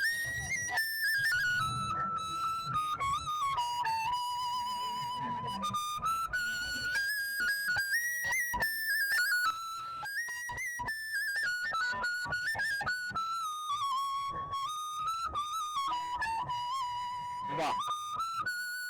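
A bamboo flute (bashi) plays a flowing folk melody in the evening at Patenga Sea Beach, Chittagong: a clear, sustained, wavering tune heard close and alone, sliding between held notes.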